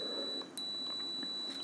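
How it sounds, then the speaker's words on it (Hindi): A digital multimeter set to continuity mode gives a steady, high-pitched electronic beep that holds close and constant from start to finish, with no voices. "उनको अप्स में अटैच करेंगे तो बीप की आवाज़ आएगी"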